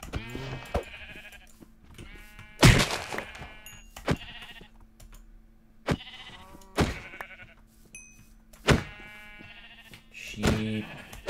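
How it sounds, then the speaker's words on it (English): Sheep bleat repeatedly in the Minecraft video game, loud, close, harmonic cries spaced a second or two apart over a quiet background hum, with no talking. "Sheep."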